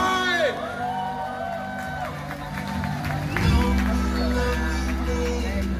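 A crowd at a reggae party in Malang applauds and cheers for a reggae band, with whoops and shouts rising over steady clapping while a voice carries on above the noise.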